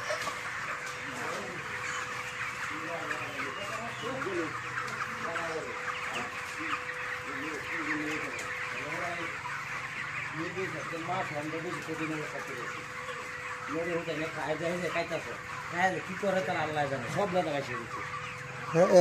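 Chickens cluck repeatedly in a poultry farm, many birds making short rhythmic calls in bursts, fairly close, over a steady background hum.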